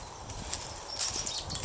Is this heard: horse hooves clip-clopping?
yes